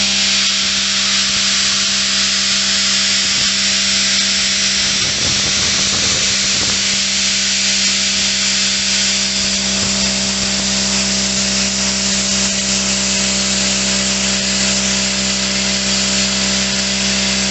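A CUT-50H plasma cutter slicing through thin painted steel, about 1/16 inch thick: a loud, steady hiss with a constant electrical hum underneath runs unbroken throughout, with a rougher, crackling patch partway through.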